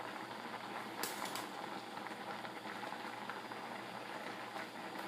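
Vegetable noodle soup bubbles at a steady rolling boil in a home kitchen pot, a dense continuous hiss and burble with a few sharper pops near the start, close and even throughout with no talking.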